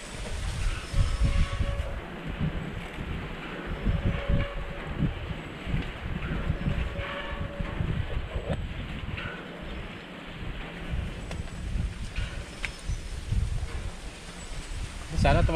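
Wind gusts across an outdoor dove hunting spot, a rough rumbling buffet that swells and eases while a voice talks quietly under it.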